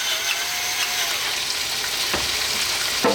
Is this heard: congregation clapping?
no